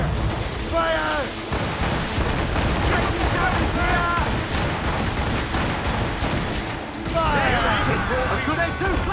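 Ship cannons boom in the naval combat of Assassin's Creed Rogue, with heavy explosions over dense battle noise and several voices shouting orders throughout.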